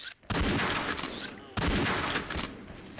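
Two loud, close sniper shots in a deathmatch shooter game, each a sharp crack followed by a long reverberant tail, separated by about a second.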